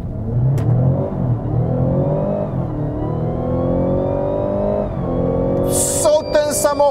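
A Mazda CX-60 plug-in hybrid SUV revs and accelerates smoothly, its pitch climbing and dipping through gear changes, ending with a few brief squeaks or chirps.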